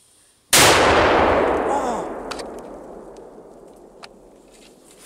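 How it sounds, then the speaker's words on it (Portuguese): A powerful large firecracker explodes nearby with a sudden deafening bang, followed by a long rumbling decay and a few faint scattered clinks as the echo fades. "O petardo mais potente até hoje no canal."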